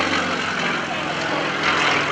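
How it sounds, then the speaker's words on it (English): An aerobatic propeller airplane roars through a maneuver at a lakeside airshow, a loud, continuous engine drone with a slight rise in strength, heard under an announcer talking. "this airplane is super light, super maneuverable, and has got lots of horsepower"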